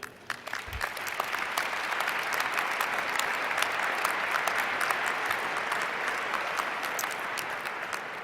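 A commencement audience at the University of Minnesota applauds to welcome speaker Steve Blank, with dense, sustained clapping from a large crowd filling the hall at an even level throughout.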